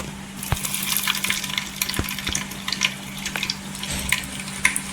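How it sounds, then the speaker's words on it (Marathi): Eggs pricked with a fork and frying in hot oil for a dhaba-style egg curry, a continuous close sizzle with crackling pops and occasional utensil clicks. "आता त्या तेलामध्ये आहे ना अंड्यानं छान अशी फ्राय करायची."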